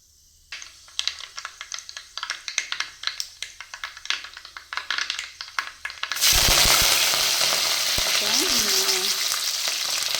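Curry leaves and green chillies hit hot oil with a burst of crackles and spits, first as sharp scattered pops, then swelling into a loud, dense, continuous sizzle up close.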